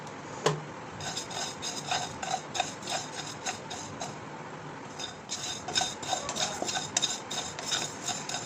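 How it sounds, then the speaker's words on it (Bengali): Cumin and fennel seeds roasting dry in a pan for pickle masala, with a spoon scraping and clinking against the metal in quick, uneven strokes, close and fairly loud with brief pauses. "প্রথমে দিয়ে দিচ্ছি জিরাটা ভেজে নিতে হবে"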